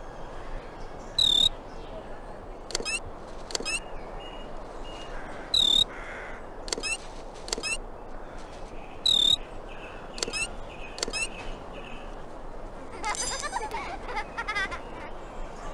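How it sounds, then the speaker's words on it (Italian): Crickets in the Disney Mulan video game chirp in short, high, repeated bursts at irregular intervals over a soft, steady background hiss. "Mamma mia, ora ci sono grilli dovunque!"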